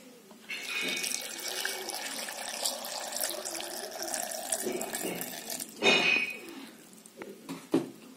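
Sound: water being poured in while making juice

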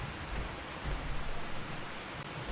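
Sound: rain in the video game Fallout 4

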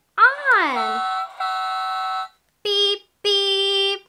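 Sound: toy beeping after being turned on

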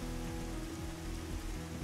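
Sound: rain in video game Dig or Die

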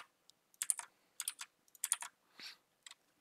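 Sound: typing a repository name on a computer keyboard

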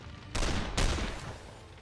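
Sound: gunshots in a video game

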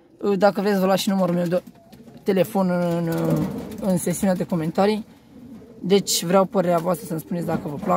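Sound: pigeons cooing

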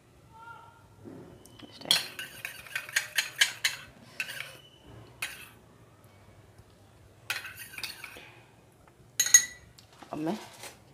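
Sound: stirring food colouring into sugar syrup

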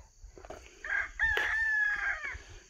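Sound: chickens near coop

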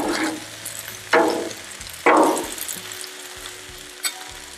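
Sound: chicken fajita vegetables sizzling in a pan

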